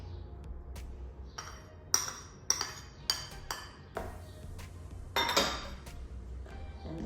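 Scone dough being mixed in a bowl after a beaten egg goes in, for date scones: a series of sharp clinks and taps of utensil on the bowl, some scraping between them, close and fairly loud, with no talking.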